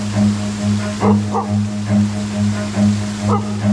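A dog barks in a few short bursts near a deep freshwater spring during a biking and trekking ride, the barks rising over a steady low hum and rushing water.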